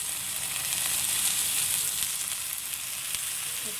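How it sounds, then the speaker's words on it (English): Light soy sauce, reduced-salt, hisses and sizzles as it hits garlic fried rice in a hot pan, a steady, close frying crackle with no voices. "let us add a little bit of the light soya sauce over the rice."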